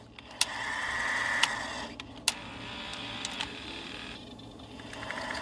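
The transport of a Philips Matchline VR6860 VCR engages and its capstan spins, giving a steady mechanical whir broken by a few sharp clicks and clunks as the mechanism moves into place.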